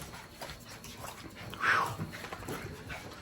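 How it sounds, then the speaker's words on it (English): A dog pants and whimpers softly at close range, with one brief, louder whine rising out of the quiet breathing. "Why does the fastest dog in the world always sound out of breath?"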